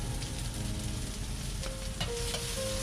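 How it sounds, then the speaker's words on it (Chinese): Scallion, ginger and garlic frying in rapeseed oil in a wok over medium-low heat, a continuous soft sizzle with faint clinks of a utensil. "在锅里加少许菜籽油，加进刚才准备好的葱、姜、蒜，中小火慢慢开始爆锅"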